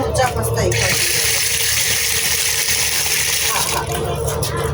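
Fish being washed in a basin or under a tap, with a steady broadband rush of running, splashing water that fills the whole stretch, faint handling noises underneath and brief gaps at the start and end.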